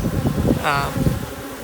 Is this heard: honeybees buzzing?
yes